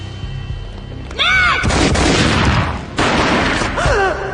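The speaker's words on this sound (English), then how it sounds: "A gunshot boomed and she fell down in slow motion." Loud gunfire in the video game Max Payne Mobile, two heavy booming bursts with dense, rumbling noise that fills the clip, along with sweeping slow-motion whooshes near the start and end.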